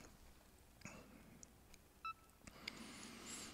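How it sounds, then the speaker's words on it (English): A BrailleSense 6 braille notetaker emits a few short, faint electronic beep tones during a Bookshare download, scattered between soft rustling handling noise. "I'm hearing the beep tones to indicate that there is work going on."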